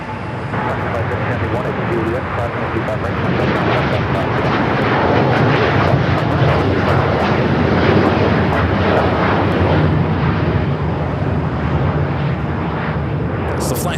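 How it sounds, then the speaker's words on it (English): A Japan Airlines Boeing 787-9 Dreamliner takes off at LAX. It is a loud, rumbling jet roar that swells and holds throughout, heard from the airport's edge with people talking over it. "Got that Japan Airlines Dreamliner taking off here on the south side."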